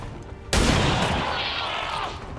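A heavy cannon shot in the XCOM video game bursts out suddenly after a quiet moment, loud and booming, then a long, rumbling roar that slowly fades across the rest of the moment.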